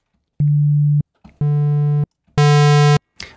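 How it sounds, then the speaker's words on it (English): Static single-cycle waveform from the Phase Plant software synthesizer, three sustained steady tones each lasting about half a second, separated by short gaps. "a single cycle waveform by itself sounds quite static"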